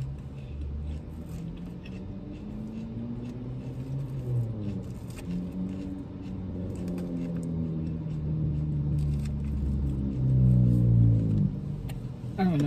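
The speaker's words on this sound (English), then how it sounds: "the traffic is too loud" Loud road traffic rumbles close by as a steady roar, with engine tones rising and falling as vehicles pass and swelling heavier near the end.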